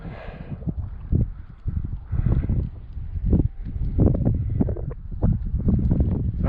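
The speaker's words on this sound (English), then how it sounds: "I'm sure some people don't like the videos because of that, all that wind." Strong wind buffeting a microphone outdoors on a spring walk at Brantley Lake, New Mexico, a loud, continuous rumbling roar with gusty bursts throughout.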